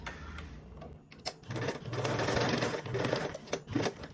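Sewing machine basting stiff mesh along a straight edge with a 1/8 inch seam allowance, a quiet start building into a steady rapid mechanical stitching whir with brief pauses and ticking.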